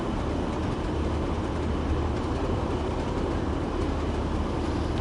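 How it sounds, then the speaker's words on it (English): A passenger train, express or local service, passes by in the PS5 video game Train Sim World 4 on a Northern Trans Pennine route, giving a steady, even rumble that holds throughout with no voices. "The express or the local passenger service has just gone by."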